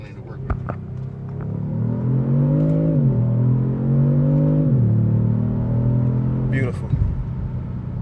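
A 2020 Kia Stinger GT2 engine revs up and holds at high revs in two long sustained pulls, loud and close, with a few clicks and brief voices around it.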